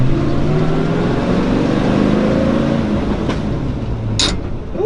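A 1959 Apache pickup truck engine drones and shifts gears, its pitch dropping and rising as it changes gear while driving, close and steady with a brief mechanical clunk near the end.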